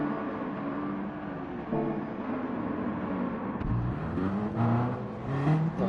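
Stock race cars in Gran Turismo 7 on the Northern Isle track produce a steady layered engine drone with shifting pitches, a thump midway and rising revs as several cars run together.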